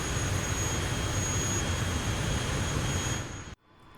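Bush plane engine running steadily before takeoff in Microsoft Flight Simulator 2024, a dense continuous roar with a high whine that cuts off abruptly near the end, no talk.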